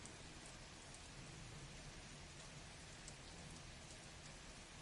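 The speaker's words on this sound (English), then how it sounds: "I just use a rain sound because it's comfy." Steady, even rain sound effect playing faintly in the background, a constant hiss of rain on a surface with no talk over it.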